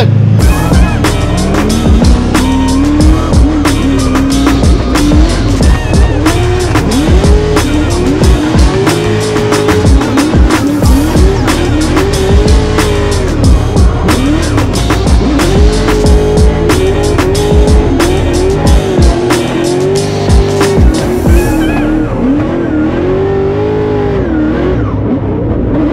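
A drift car at a DMEC round in Poland screams past under hard throttle, its engine revving and bouncing off the limiter while tires squeal and skid continuously, loud and close, with brief dips between passes.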